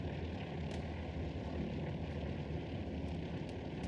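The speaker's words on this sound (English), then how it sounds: "I can hear possibly airdrops, bombing runs, recon planes dropping" A recon plane drones steadily overhead in the Hell Let Loose battlefield, a constant low engine rumble filling the whole stretch without breaks or speech.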